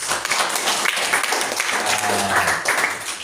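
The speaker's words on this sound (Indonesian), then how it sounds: "Tepuk tangan dulu buat Tuhan." Church congregation clapping together during a service, a sustained dense patter of many hands with voices murmuring underneath, moderately loud and continuous throughout.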